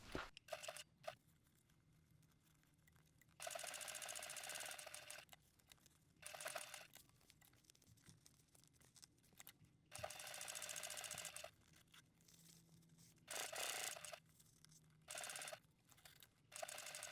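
A sewing machine topstitching a zippered pouch bag runs in several close bursts of fast whirring stitching, separated by quiet pauses and small handling clicks, with no talk.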